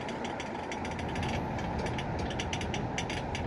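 A car jack being cranked to raise a 2019 Lincoln Navigator for a wheel change, with a rapid, steady ratcheting click over a dense mechanical grinding rumble, close and continuous.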